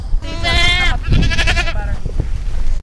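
Loud, close bleating from sheep and goats on a farm, two long wavering cries followed by quieter calls, with a voice partly audible underneath.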